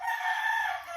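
Rooster crowing on a Filipino backyard poultry farm, one sustained close crow lasting about a second with faint low clucking beneath, no speech.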